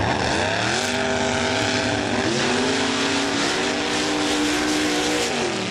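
Two mud racing trucks, Yo Mama 3 and Whiplash, roar side by side at a Laporte, Indiana mud race. The engines drone loud and continuous, with rising and falling pitch as they rev.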